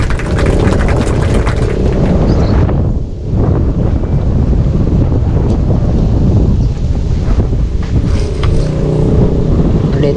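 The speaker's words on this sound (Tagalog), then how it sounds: "grabing hangin." Strong wind roars steadily across the microphone on a small fishing boat at sea, a loud continuous buffeting rush with a brief dip partway through, and no talk.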